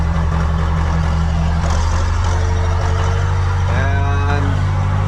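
A loader's diesel engine runs steadily and loud, a low droning hum filling the background, with a brief rising whine joining midway; the machine is said to have a flat tire.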